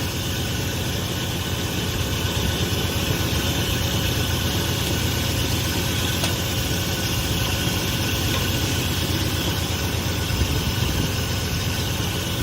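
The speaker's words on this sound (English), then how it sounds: "The motor has a little bit of a shake to it, but it's not too bad." A Dodge Ramcharger truck engine idles steadily with a low, rough rumble and a slight shaking vibration, constant and close, with no voices.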